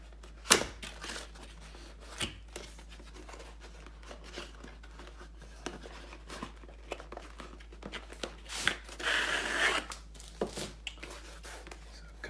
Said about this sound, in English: Just gonna cut open the sides.